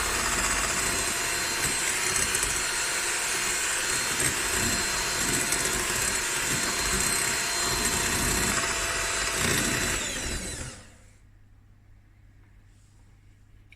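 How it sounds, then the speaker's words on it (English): An electric hand mixer beats fresh cream for a cake in a home kitchen, a steady loud motor whir running continuously for about ten seconds before it switches off, leaving a quiet low hum. "now we're going to beat this with a hand mixer"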